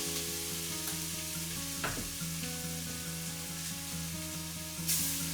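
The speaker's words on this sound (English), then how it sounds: "Once we've given the spice mixture a minute to cook and fry" A spice mixture with tomato puree for a lentil curry fries in a pan with a steady, bright sizzle, close and even throughout, with a soft scrape near the middle and a low hum underneath.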